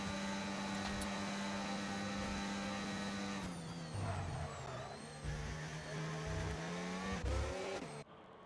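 Engines from a Formula-style racing video game on a Singapore street circuit hold a steady high drone, with pitch shifts and downshifts as cars jostle for position; no voices.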